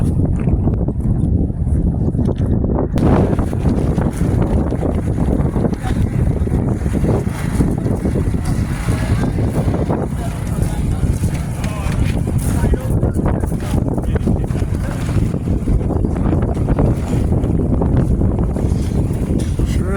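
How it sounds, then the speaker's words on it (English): Strong wind roars and buffets the microphone continuously outdoors at Quartzsite, a steady rushing noise with occasional gusts. "Windy today."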